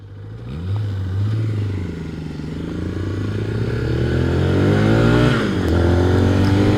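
Zontes 310M scooter ridden close by, its engine droning and rising as it slows and pulls in to park, with wind buffeting and a low rumble of passing traffic underneath.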